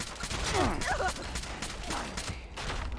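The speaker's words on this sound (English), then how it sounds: "See all those shots I didn't miss?" Muffled gunfire in Fallout 76 rattles through a busy mix of game sounds, with a steady spread of shots and brief vocal-like groans over a low rumble, moderately quiet.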